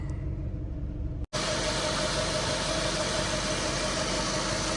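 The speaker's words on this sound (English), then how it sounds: "quick view of start up and idling on this Buick Special" A 1955 Buick Special Series 40 two-door pillarless hardtop with a V8 idles steadily with a dense, even rumble, broken once by a brief cut in the sound before the idle resumes, close and continuous.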